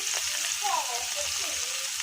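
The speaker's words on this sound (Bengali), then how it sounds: "এই তো আমার পেঁয়াজ ভাজা হয়ে গেছে" Onion and bay leaf fry in a pan with a continuous close sizzle and light crackle, while a faint voice is heard briefly in the background.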